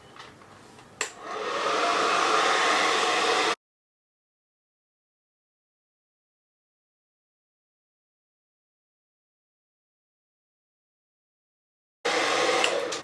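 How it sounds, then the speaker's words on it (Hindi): A hair dryer used during a makeup routine clicks on and blows with a steady, loud whoosh for a few seconds, cuts to silence, then returns briefly at the end, with no talk. "अब हम करेंगे अपना ड्रायर।"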